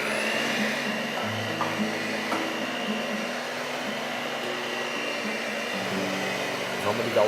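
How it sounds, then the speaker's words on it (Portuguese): Electric mixer beating pumpkin cake batter made with flour, beaten egg yolks, pumpkin, eggs and sugar, a steady loud motor whir running throughout with slight shifts in pitch as the beaters work. "agora nós vamos misturar tudo isso com a batedeira"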